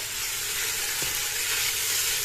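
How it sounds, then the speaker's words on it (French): Meat sizzles and fries steadily in a pot, a constant close crackling hiss with a brief stirring scrape about midway, no voices. "Là, j'ai mis toute ma viande."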